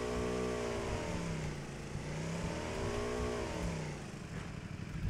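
Motorcycle engine in the video game PUBG, a loud sustained drone whose pitch sweeps up and down as the bike accelerates and eases off, with no talking over it.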